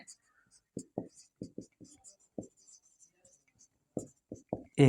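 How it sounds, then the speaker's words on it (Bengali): A pen writes on a board while solving a logic circuit problem, producing short scratchy strokes in irregular bursts, fairly close and quiet, with a closing louder stroke. "এখন আমি কিন্তু উপরে থেকে লিখছি"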